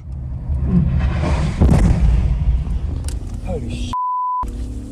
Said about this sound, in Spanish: Sentimos la presión de la onda expansiva de la explosión justo detrás de nuestro auto blindado.